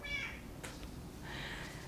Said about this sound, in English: My cat just came in.